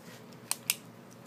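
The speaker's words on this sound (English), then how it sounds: "Next we're going to cut out the CD case." Two crisp, sharp snips a fraction of a second apart as a plastic CD case is cut, close and otherwise quiet.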